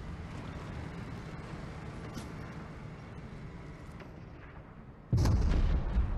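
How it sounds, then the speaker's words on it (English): Rockets launching in a multiplayer shooter game, a rumbling whoosh and blast that rolls under busy game noise, with a sudden loud burst near the end. "They're firing rockets at you."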